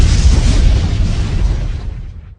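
Several people voicing mock explosion sounds, a loud continuous rumbling burst of breathy noise that slowly fades over a couple of seconds, imitating blasts after a podcast board game round.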